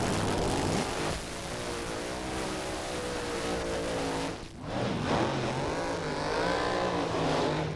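Krypton dragster piloted by Dave Wilson roars down the Santa Pod drag strip in 1994, a loud sustained engine howl that dips briefly midway and then surges again, with a crowd and track ambience behind it.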